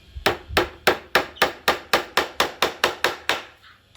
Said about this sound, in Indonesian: Kle, palunya memang palu tukang.